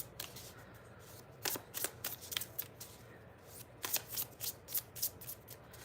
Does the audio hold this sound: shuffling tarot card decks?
yes